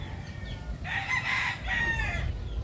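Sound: chickens

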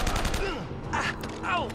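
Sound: gatling gun firing in the video game Uncharted

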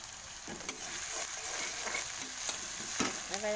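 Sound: onion paste and salt frying and stirred in pan

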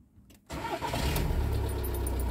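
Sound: VW T5.1 2.0 litre TDI van engine starting

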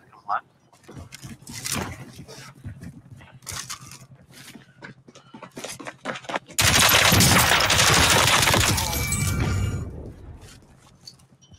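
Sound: gunfire in the video game Warzone

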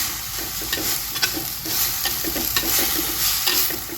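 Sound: stirring ponnanganni spinach thoran in a pan

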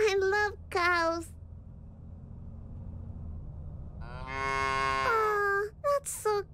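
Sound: cows mooing in the video game Little Misfortune

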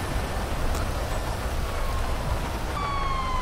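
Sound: rain in GTA V video game

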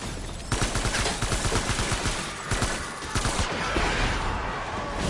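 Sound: short rifle gunfire in video game Death Stranding

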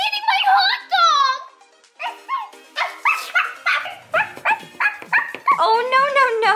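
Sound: dog barking at a toy pool party

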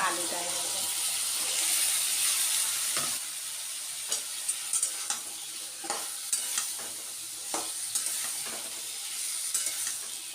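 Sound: frying catla fish oil with onions on high flame

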